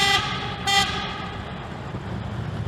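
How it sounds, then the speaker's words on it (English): A car horn sounding in a road tunnel through Boulder Canyon, Colorado, with two short toots in quick succession that ring and echo off the walls over steady engine and road rumble. "we'd always honk our horns when we went through the tunnel here"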